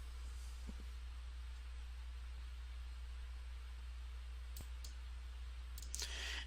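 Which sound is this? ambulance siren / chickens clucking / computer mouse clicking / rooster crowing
computer mouse clicking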